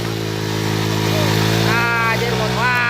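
A motorcycle engine runs steadily close by on a rural outing in the early rainy season, its low, constant drone joined by rising tonal whines and revving near the end, with people talking over it.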